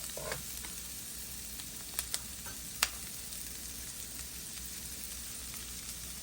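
Spinach (saag) sautes in a pan over low-medium heat for palak paneer, a soft continuous sizzle with a few sharp clicks and taps of a utensil stirring against the pan.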